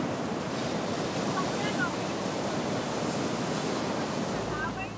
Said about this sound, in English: Just look at that beautiful ocean.